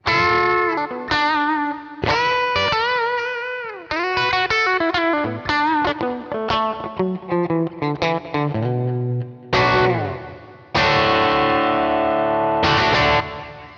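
An electric guitar on its bridge pickup, played through a '62 Princeton amp profile, plays a bright, snappy, twangy phrase of plucked notes, bends and ringing chords, close and loud with a light effects sheen.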